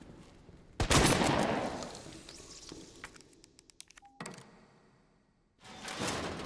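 Shotgun blasts at a zombie in the Resident Evil 2 remake: a loud booming shot with a long decaying tail, followed by clicking reload and handling noises, then a second burst near the end.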